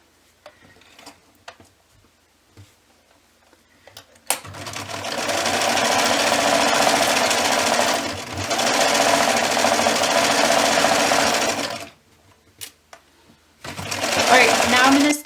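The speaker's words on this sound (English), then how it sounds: "So now I'm just going to stitch around it," A sewing machine stitches around a fleece slipper boot in two long, steady runs of rapid close mechanical chatter with a short pause between them, preceded by quiet handling sounds and followed by another burst.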